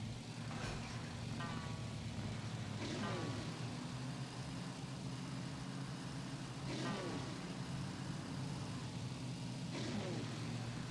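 Rally cars in a racing video game drone steadily, with engine hum throughout and repeated rising revs and gear shifts as several cars pass the start, under continuous talk.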